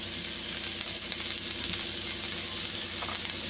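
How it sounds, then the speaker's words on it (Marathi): Chopped onion fries in a pan for a home-style curry of brinjal and potato, giving a steady, even sizzle that stays loud and close throughout with no talking. "आता कांदा भाजत टाकते"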